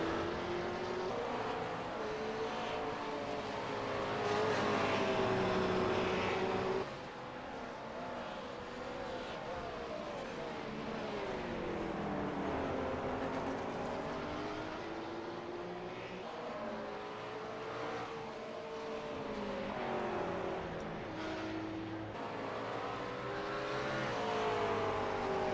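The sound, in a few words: race cars racing at Road America, including a McLaren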